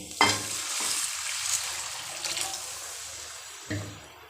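Water hits hot oil and softened tomato masala in a pan for ivy gourd curry, giving a hissing sizzle that surges at the start and again near the end, with soft stirring clinks in between.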